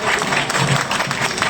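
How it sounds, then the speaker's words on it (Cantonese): An audience claps through a short burst of applause at a martial arts banquet celebrating a master's birthday and 55 years of teaching, with the clapping dense and sustained throughout. "俾多啲掌聲嚟先"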